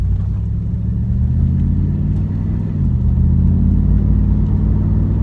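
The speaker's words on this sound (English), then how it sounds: "Love the way that exhaust sounds." A 1997 Camaro Z/28's 285 hp LT1 V8 exhaust rumble builds as it accelerates, steady and loud, with the pitch rising slightly partway through.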